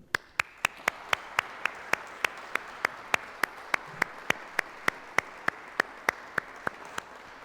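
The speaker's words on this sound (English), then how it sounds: "I would like to ask you to give a very big round of applause for that." Audience applause at a conference closes a business forum on innovation in Prague, heard as a steady run of sharp, evenly spaced claps over a low hum in the hall.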